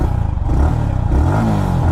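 An older Yamaha motorcycle fitted with a modified exhaust idles close by, its engine putting out a steady, throbbing low rumble with slight fluctuations and no speech over it.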